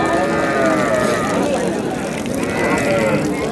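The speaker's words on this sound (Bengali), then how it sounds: "শাহিওয়াল গাভী বাছুর আমরা দেখছিলাম এখানে।" Sahiwal cow and calf mooing at a busy cattle market in Ambari, Dinajpur, with loud, drawn-out lowing over constant crowd chatter and market bustle.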